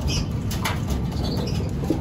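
Pigeons in a loft, breeders kept on the lower level, giving soft low cooing with light fluttering and scratching movement nearby, plus a brief sharper note near the end; no talk.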